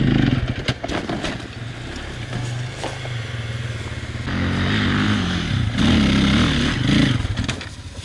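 A KTM EXC or Yamaha YZF 450 enduro dirt bike engine runs close by, idling with an uneven throb and then rising into blips of throttle, with clattering mechanical noise between revs.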